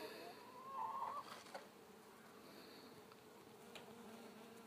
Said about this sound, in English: a bee factory. Bzzz. Happy bees.